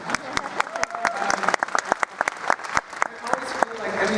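An audience applauds steadily, a dense patter of many hands clapping with sharp individual claps standing out, while a voice talks faintly underneath.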